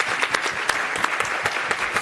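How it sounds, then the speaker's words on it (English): Conference audience applauding a professor, a dense, steady patter of many hands clapping close by, with sharper individual claps popping out of the wash for the full two seconds. "So a round of applause for him, please."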